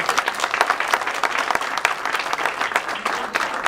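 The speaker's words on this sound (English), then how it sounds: "can we give Dr. Valenti a round of applause," Parents at a school district meeting applaud a presenter, a lively round of clapping from a room full of people, loud and near, with sharp individual claps throughout and no pause.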